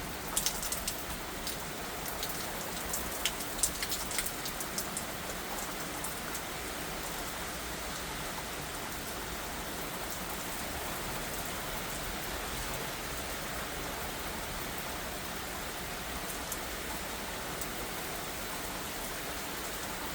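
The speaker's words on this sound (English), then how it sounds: "Really raining hard." Heavy rain pouring steadily during a strong thunderstorm in Valley Stream, New York, a dense continuous hiss of drops close by with no thunder clearly heard.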